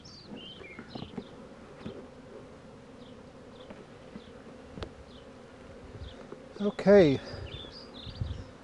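Irritated honeybees buzz around an opened hive during varroa mite dusting, a faint constant drone with individual bees flying close past, while a person speaks briefly in a low voice.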